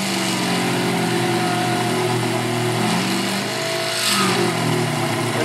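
A Sherline mill roughing aluminum with a quarter-inch rougher gives a steady, loud mechanical whine and grind with no pause, swelling briefly near the end.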